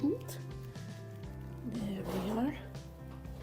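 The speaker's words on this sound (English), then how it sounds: "Sorry for the noise, it's just my cat." A cat's rising meow near the end, heard over a person speaking briefly and kitchen background noise.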